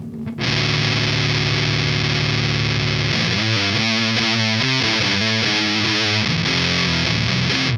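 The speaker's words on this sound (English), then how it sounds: "the big MUFF is going into the clean channel of the BRUNETTI" Electric guitar through a Big Muff fuzz pedal into the clean channel of a Brunetti amp, a thick sustained fuzzy chord that breaks into a fast chugging riff, loud, dense and constant with no talk.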